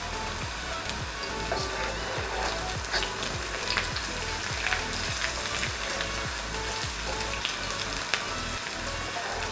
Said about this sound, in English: I'm putting in here pound garlic, onion, chili and saute them. Put in the cashew nut.